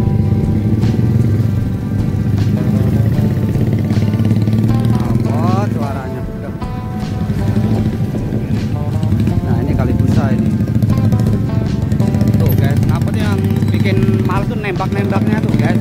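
Loud, steady motorcycle exhaust roar during a road ride in Indonesia, engine drone sustained throughout with brief revving swells, under people talking over it.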